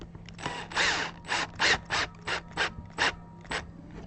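Screws being driven by hand to mount the neck back onto a Music Man guitar give a series of about eight short ratcheting bursts, close and fairly loud, with brief gaps between them and no talking.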